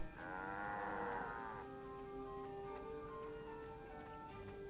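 Cows in the Guild Wars 2 video game let out one long, drawn-out moo near the start, followed by quieter lowing and faint game ambience, with no talk.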